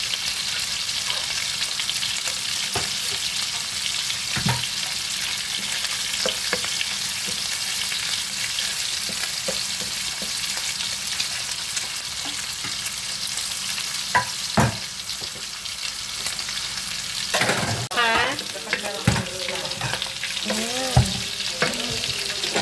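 Pork and garlic frying in a pan for Filipino pakbet, a steady loud sizzle throughout with scattered stirring scrapes and clinks, denser bursts of spoon noise near the end.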